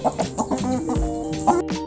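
Chickens cluck softly in short, repeated bursts in a village, fairly close, against a low background murmur.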